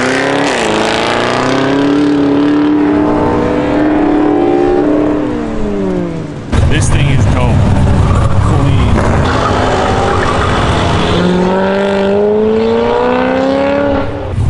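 Race cars including a Cadillac CT5-V Blackwing lapping an autocross course, engines roaring loudly with rising and falling revs through gear changes, a brief dip before another car charges past, steady and close throughout.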